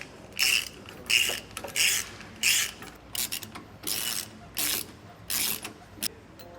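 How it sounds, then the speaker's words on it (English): A ratchet tightens the 3/4 inch bolts on an exact-center steering stabilizer being installed on a Class A motorhome. It gives about nine close, loud bursts of rapid clicking, separated by short pauses. "So just the 3/4 inch bolts are tightening."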